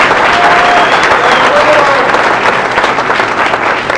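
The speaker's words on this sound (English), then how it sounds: "a special round of applause for the timeskeeper" A candidate forum audience gives a round of applause for the timekeeper before a break: loud, dense crowd clapping filling the room steadily, with faint voices and whistles underneath.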